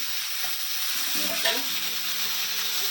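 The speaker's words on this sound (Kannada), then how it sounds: "ಸ್ವಲ್ಪ ಫ್ರೈ ಮಾಡ್ಕೊತೀನಿ ಇದರಲ್ಲಿ ಎಲ್ಲದನ್ನು" Chillies, tomato, onion and garlic fry in a pan with a steady, close hiss of sizzling oil, broken by a faint scrape of stirring partway through.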